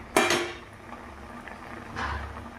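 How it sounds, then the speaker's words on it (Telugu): A ladle stirs tomato dal in a pot, giving a couple of close metallic clanks and scrapes with a soft bubbling hiss between them. "ఒక్కసారి గరిటతో తిప్పుకుందామండి, మొత్తం కలిసేటట్టు."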